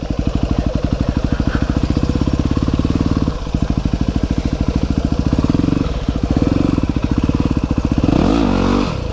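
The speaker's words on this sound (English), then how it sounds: "Yeah, I'm just spinning out." Yamaha WR250R motorcycle on worn motard tires, its single-cylinder engine chugging in a fast steady beat close by, dipping briefly a couple of times and then rising into a revving whine as the rear wheel spins out.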